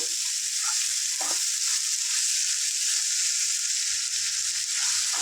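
Bottle gourd curry fries in a pan on a gas stove, a dense, steady sizzle heard close up, with a few faint clicks of stirring and no voices.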